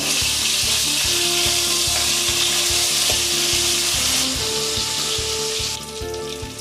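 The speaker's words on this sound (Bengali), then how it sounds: "মাছের মাথাগুলো বেশ লাল করে এপিঠ ওপিঠ ভেজে নেব।" Steady, loud sizzling of rohu fish heads frying in hot oil, with occasional scraping or stirring knocks against the pan.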